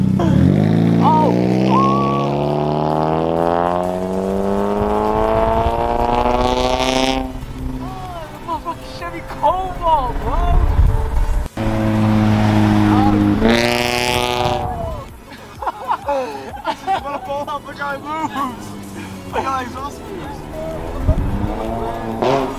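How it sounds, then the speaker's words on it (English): A McLaren on a Las Vegas street revs, its engine pitch sweeping up and down in long, loud pulls with a brief sharp burst midway, while people talk and exclaim over it throughout. "I'm revving at the McLaren"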